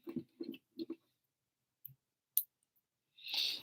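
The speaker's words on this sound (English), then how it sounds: "You feeling that brick clicking" Lego bricks click together during a Razor Crest 75292 build, giving a few quick, close snaps in a short burst, then isolated clicks and a brief rustle at the end, with no talking.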